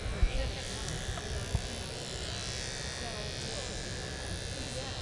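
Electric clippers shave a poodle's feet during grooming, a steady close buzzing hum running throughout with a couple of small knocks near the start.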